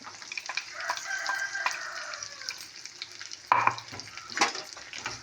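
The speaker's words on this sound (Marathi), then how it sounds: "त्याला छान असं तेलात आहे ना परतून देऊ" Brinjal and ground spice paste fry in hot oil for a village-style khar vangi curry, giving a steady close sizzle with stirring scrapes and a sharper clink partway through.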